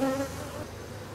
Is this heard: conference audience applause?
no